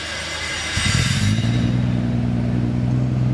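Nissan Stagea 260RS engine starting for the first time, a cranking catch that settles into a loud, steady idle rumble with a deep even drone, close by.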